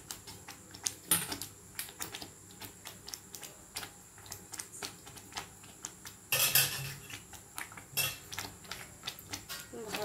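A spoon clacks and scrapes repeatedly against a pot while ground coconut is stirred into palm-fruit kheer, quick irregular knocks with a brief louder rustle partway through, fairly quiet overall.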